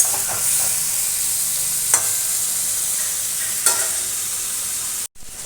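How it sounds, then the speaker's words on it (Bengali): Cumin, green chilli paste and chopped tomato sautéing with potatoes in hot oil, a steady close sizzle with a couple of brief louder spatters and a sudden cut near the end, no talk. "মশলাটা এবার আমি একটু কষিয়ে নেব।"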